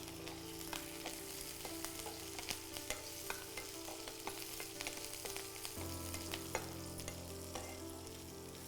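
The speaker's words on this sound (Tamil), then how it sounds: "இதெல்லாம் நல்லா வதங்கட்டும்" Steady sizzling of curry leaves and chillies frying in a pan with cumin, with irregular clicks and scrapes of stirring, close and continuous, no voices.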